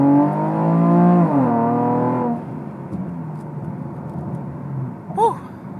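A 2015 Camaro RS launches hard from a dead stop with traction control off, its engine roaring loud and close as the pitch climbs for about two seconds before the note drops back into a quieter, rougher rumble.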